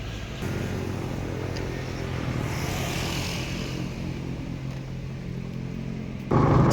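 Royal Enfield motorcycles cruising along a road during a long-distance touring ride, a steady droning engine rumble with road noise throughout, a sudden louder surge near the end.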